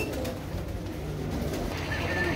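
A flock of pigeons on a rooftop loft keeps up a continuous, fairly close cooing murmur throughout, steady in loudness, with no talk.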